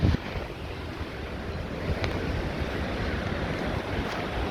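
The flooded River Don in Sheffield, swollen where the Loxley and Sheaf join it, gives a steady broad roar of rushing water, loud and continuous, with wind buffeting the microphone.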